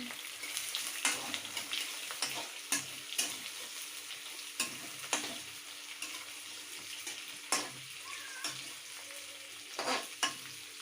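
Onions fry in a pan with a soft continuous sizzle, broken by intermittent scraping and stirring knocks of a utensil, fairly faint and close, with no voices.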